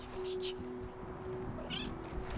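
A pet cat in a home in Hainaut, Belgium, gives two brief, fairly faint meows about a second apart over steady background noise.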